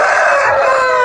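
A fighting rooster at a farm crows loudly and close by, a single sustained strained call lasting about a second, with no talking.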